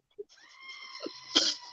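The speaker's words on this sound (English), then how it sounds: "it's the screaming goat" A goat's long, strained scream with harmonic layers, rising into a louder burst near the end, stands out over a few faint background noises.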